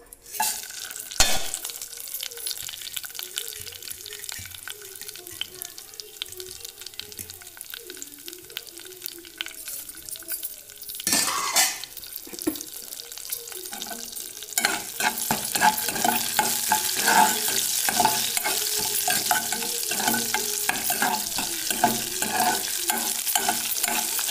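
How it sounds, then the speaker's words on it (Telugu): Mustard seeds, cumin, urad dal and green chillies crackle and sizzle in hot oil, starting with scattered pops and growing into a steady, louder sizzle with occasional stirring clinks. "ఇప్పుడు ఆయిల్ హీట్ అయింది కదా, తాలింపు దినుసులు పచ్చిమిర్చి, ఆవాలు, జీలకర్ర, మినప్పప్పు"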